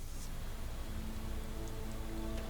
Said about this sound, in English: It's raining.